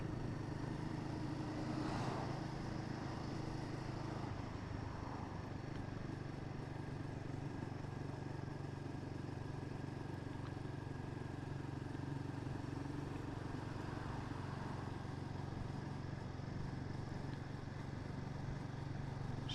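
Royal Enfield Guerrilla 450 single-cylinder engine pulling away gently on an icy road, a steady low throbbing hum at modest, even revs that holds constant throughout without voices.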